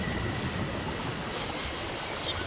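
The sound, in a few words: spring-operated locomotive train at a station in the Syberia video game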